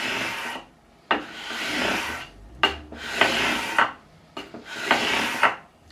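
A 9.5-inch radius block fitted with 400 grit sandpaper rubs back and forth along guitar frets during a fret level on a reliced Telecaster, giving close, rhythmic rasping strokes with short pauses between passes and no talk.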